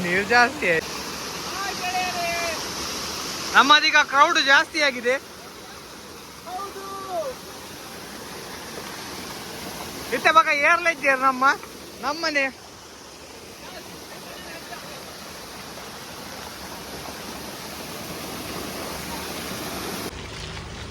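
At a hidden falls in Udupi, the waterfall keeps up a continuous rushing wash, while people talk in a couple of short bursts over the constant water noise.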